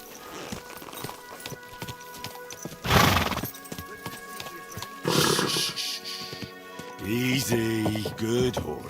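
A horse in the video game Kingdom Come: Deliverance II neighs loudly twice amid steady clip-clop hoofbeats, with brief bursts of noise between, up close and clear.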